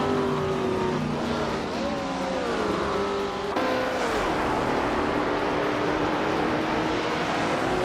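A 1966 McLaren Elva Ford race car engine in a racing video game, a loud, steady roar whose pitch climbs and drops through gear changes, with other cars blending in.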